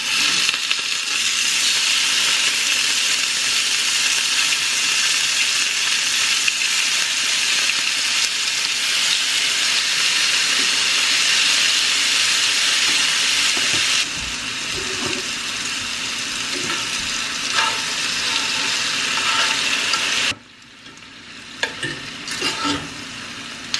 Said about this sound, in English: I will bring that to a quick boil.